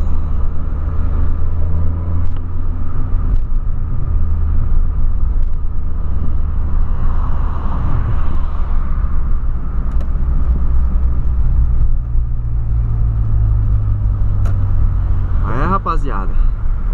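A Volkswagen Polo cruises along the road, giving a steady, loud low rumble of engine and tyre noise that continues without a break, with brief clicks and a faint squeal near the end.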